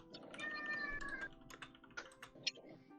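A cat gives a single drawn-out meow, fairly faint, followed by scattered soft clicks and tapping in a quiet room.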